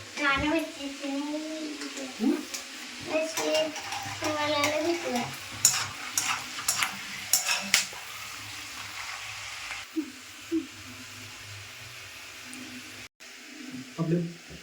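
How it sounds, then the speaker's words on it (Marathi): Green chillies frying in hot oil for nylon chivda, a crackling sizzle with stirring, heard under steady nearby talk by adults and a child, then thinning to a quieter fry near the end. "आता मिरची तळून घेणार"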